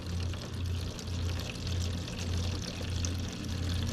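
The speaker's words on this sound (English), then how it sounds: "lift up the seedling tray and fill that bottom reservoir with water" Water pours steadily into the bottom reservoir of a seedling tray, a continuous close trickle lasting the whole stretch with gentle pulsing, no voices.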